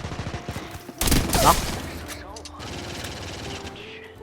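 Rapid bursts of gunfire from the video game High Energy Heroes, a loud flurry of shots around the one-second mark trailing into lighter scattered fire, with a voice talking over the opening and quieter game noise afterward.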